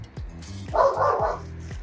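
Dogs barking nearby, several sharp woofs in quick succession over about two seconds, with a burst of louder, noisier barking in the middle.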